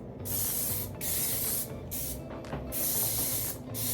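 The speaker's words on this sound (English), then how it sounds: "Take that hair and start spraying it." Several close hairspray bursts, bright hissing sprays in quick succession with brief pauses between them, loud and near.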